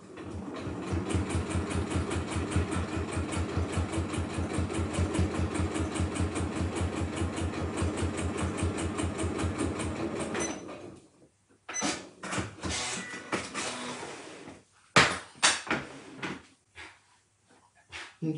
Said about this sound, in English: I'm going to put this back in the machine and sew along this edge just to fasten this down.